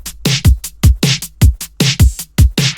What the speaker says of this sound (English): And then all together, the drums sound like this.